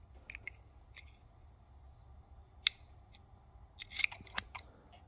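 Scissors snip the reed of a single-reed duck call, giving a few sharp, close clicks over a quiet background, one isolated and a small cluster of cuts near the end.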